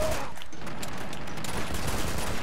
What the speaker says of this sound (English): everyone, going to shoot this guy here